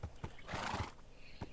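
A horse in the game Minecraft lets out a single short, bright whinny in the middle, framed by a few soft hoof thuds, fairly quiet and with no talking over it.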